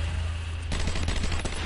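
Rapid gunfire in the video game Batman Arkham Asylum, a burst of dense automatic shots starting partway through and continuing loudly over a low game soundtrack.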